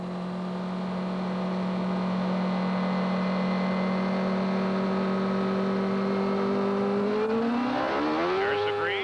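Nigel Mansell's race car engine idles loud and steady from an onboard camera on the starting grid, a sustained droning hum that suddenly rises in pitch near the end as the revs climb for the start.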